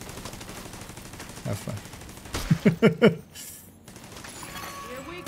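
An automated turret in a shooter video game fires a short rapid burst of several shots, fairly loud, with a person talking before it.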